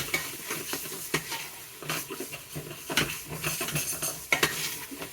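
Two pounds of 80-20 ground beef stirred and browned in a pot, with a steady sizzle under repeated scraping strokes of a utensil against the metal, close and fairly loud, with no talking.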